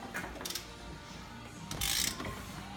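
A hand ratchet clicks in short bursts while steering rack bolts are removed from a Nissan S13 subframe, close and moderately loud, with a brighter metallic rattle near the end.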